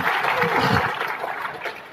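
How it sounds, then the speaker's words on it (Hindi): Audience applause welcoming a guest at a religious gathering led by a maulana, a loud burst of many hands clapping close by, mixed with some murmuring voices. "इनका तालियों से इस्तकबाल कीजिए"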